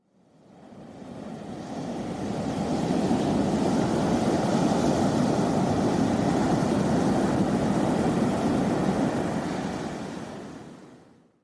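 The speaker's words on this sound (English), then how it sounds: "And this is the ocean." Ocean waves roar in a broad, continuous surge that swells up, stays full for several seconds, then fades away.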